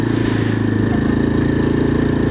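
An adventure motorcycle climbs a zigzag mountain road in the Koheda Hills near Hyderabad, its engine droning steadily and loudly close by with a low throbbing pulse throughout.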